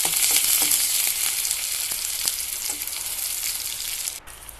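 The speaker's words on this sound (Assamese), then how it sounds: "প্ৰথমতে পিয়াজখিনি এনেকৈ ভাজি লম।" Onions fry in a pan for an Assamese fish curry, giving a loud, steady crackling sizzle close up with a few stirring scrapes, easing slightly toward the end.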